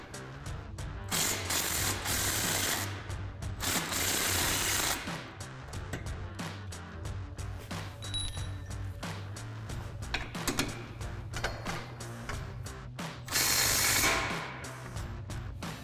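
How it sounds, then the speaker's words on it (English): A hand ratchet with a 15mm socket works loose the shock bolts on a 2005-2014 Ford Mustang during a coil-over install, giving repeated close clicking bursts with brief pauses between strokes. "So we're gonna grab our 15mm socket and remove these bolts."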